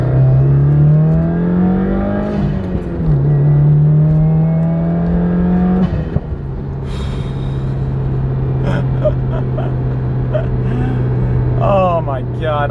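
A flex-fuel tuned Subaru WRX accelerates hard in second gear, its engine note climbing loudly from inside the cabin, then a shift and a steady drone, with a person's voice and exclamations over it.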